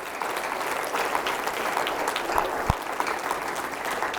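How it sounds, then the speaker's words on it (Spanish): A church congregation claps hands together in steady, continuous applause filling the room, fairly loud and close, with no talk over it. "Denle palmas al Señor para que se despierten los dormidos."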